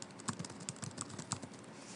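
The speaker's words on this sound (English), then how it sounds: "If you type a bunch of text" Steady typing on a computer keyboard, a fast run of light clicking keystrokes at an even pace, close but quiet, with no voices.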